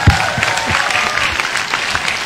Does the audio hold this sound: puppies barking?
no